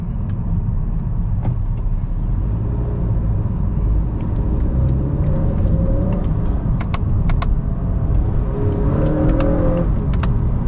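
A Honda Accord's turbocharged engine accelerates on a Brooklyn, New York street, heard from inside the cabin as a loud, continuous low rumble with road noise and a few faint rattles, with no talking.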